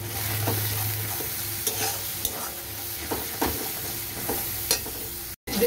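A spice paste with turmeric and a splash of water sautés in a pan, a steady close sizzle broken by spoon scrapes and taps while it is stirred, with no talking.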